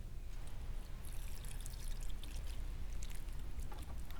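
Water pours and splashes steadily onto the base of a tree outdoors, a continuous close gush with trickling spatter, no talking over it.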